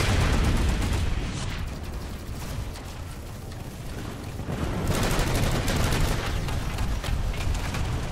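Dense, sustained gunfire from slug-loaded scatter cannons in a team shooter game roars continuously and loudly, with no pauses and no voices over the blasts.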